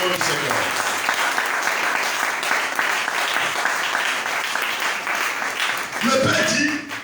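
Church congregation cheering and applauding loudly at a worship service, sustained dense clapping and shouts over several seconds, with a voice rising briefly near the end.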